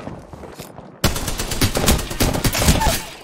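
Rapid automatic gunfire in the battle royale shooter Apex Legends, a quieter stretch breaking into a loud, dense burst of shots that keeps rattling on with game sound effects.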